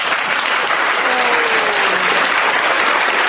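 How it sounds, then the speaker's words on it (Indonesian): Audience applause, a continuous dense crackle of many hands clapping at steady loudness throughout, with a faint voice briefly audible beneath it. "tepuk tangan Bang Jimmy."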